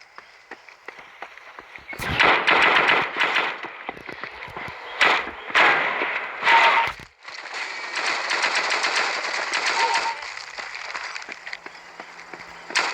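Rapid automatic gunfire from Counter-Strike 2 comes in several loud bursts of shots, with short pauses between them and a long sustained burst near the end, and no talking.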